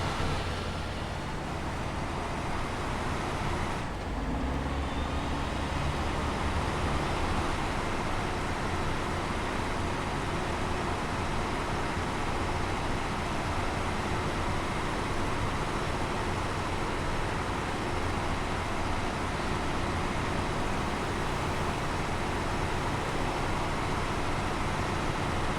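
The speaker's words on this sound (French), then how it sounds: "Alors c'est un camion qui est assez lent" A slow truck drives in a video game, a steady low engine drone with road rumble that stays constant and loud throughout, with a brief shift in tone early on.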